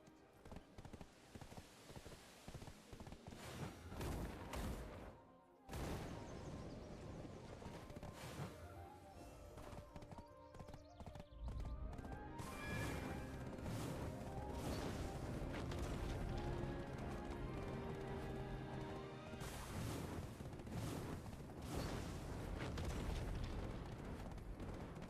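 Horse hooves clip-clop steadily in Black Desert, a mounted ride through game terrain, layered under loud music and rumbling effects with a brief drop-out near five seconds.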